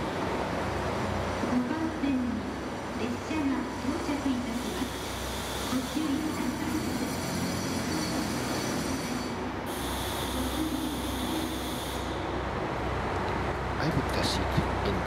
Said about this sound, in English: This train is a Kiha 183 series.